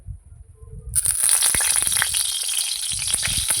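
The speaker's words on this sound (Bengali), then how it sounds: "এই মাছ ভাজা যে তেল ছিল সেই তেলের মধ্যে আমি আলু দিয়ে কিন্তু আগে আলু একটু ভেজে নেব" Potatoes go into hot leftover fish-frying oil after a quiet moment, setting off a sudden loud, hissing sizzle full of crackles and pops that keeps going steadily.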